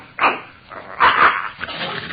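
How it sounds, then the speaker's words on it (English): A dog makes a few short whimpering, grumbling vocal bursts close by, loud and distinct in a quiet room with a narrow, old-radio sound. "The dog's wagging his tail."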